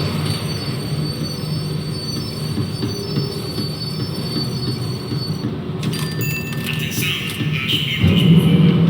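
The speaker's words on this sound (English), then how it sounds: "tram was slowing down, and I'd only just gotten on board" A tram slows down in the Max Payne 3 video game, with a steady rolling rail rumble and a high wheel squeal. Near the end a sharper metallic screech and a louder clank rise over it.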